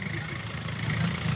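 A Mahindra XUV300 runs with a steady, fairly loud engine hum and road rumble, a continuous drone from a nearby car with no voices in this stretch.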